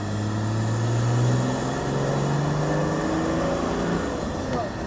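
Mercedes OM606 turbo diesel swapped into a Land Rover Defender, pulled from about 1,000 RPM under full throttle as boost builds: a loud, steady engine drone and whine with rising tones, close up and continuous, with no talking.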